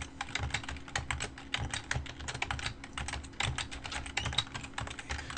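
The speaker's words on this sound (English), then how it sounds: "So now we're going to type that in." Rapid, steady keystrokes on a computer keyboard while a command is entered at a terminal, close-up and continuous with no talking.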